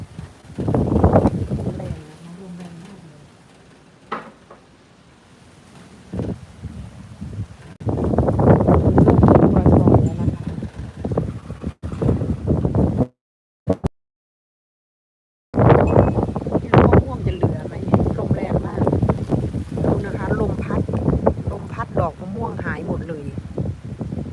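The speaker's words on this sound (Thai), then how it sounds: "เดี๋ยวจะเปิดประตูไปให้เพื่อนๆดูว่าลมแรงขนาดไหน" Strong gusting wind roars and buffets the microphone outside an open bedroom door at a house in Florida, rising and falling in waves, with someone talking over it.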